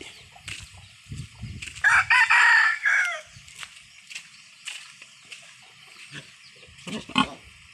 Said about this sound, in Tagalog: yung kanyang native na baboy